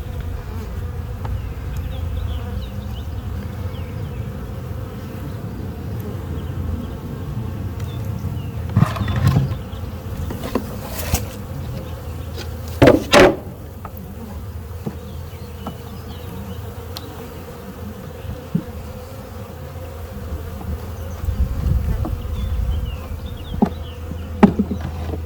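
A honey bee swarm on the ground gives a continuous low buzzing hum through the whole stretch, near and steady, with a few brief knocks and handling noises but no talking.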